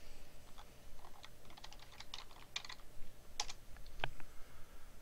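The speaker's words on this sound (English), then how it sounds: "Just type the city where you are." Fingers typing on a computer keyboard, a quick irregular run of close, light key clicks with brief pauses and a couple of sharper taps near the end.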